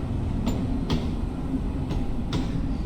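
A train in Train Sim World 2, a rail simulator, rolls slowly toward the buffers. A steady low rumble carries a few soft, evenly spaced clicks and clunks from the wheels passing over rail joints.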